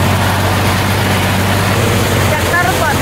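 A tractor engine runs steadily at a low, heavy chug in a village setting, loud and close, with people talking over it.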